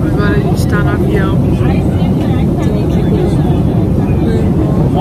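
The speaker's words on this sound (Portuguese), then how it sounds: "Agora a gente tá no avião." Steady, loud broadband roar inside an airplane cabin during a flight to Playa del Carmen, Mexico, with people talking over the constant drone throughout.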